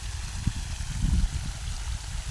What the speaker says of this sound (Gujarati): આવી રીતના હું પાણી આપું છું માંડવીને